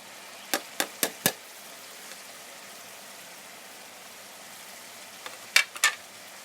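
Spices and a tomato-onion masala for degi-style chicken korma fry steadily on a high flame, a low continuous sizzle broken by a few sharp metallic clinks of a spoon on the pot.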